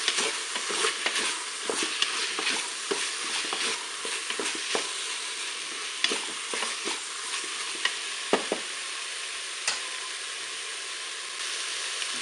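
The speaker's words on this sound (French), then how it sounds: "Je vais maintenant ajouter mes carottes que j'ai égouttées." Drained carrots sizzle in a hot Cookeo multicooker pot while being stirred, a steady bright frying hiss with frequent short scrapes and clicks of the spoon against the pot.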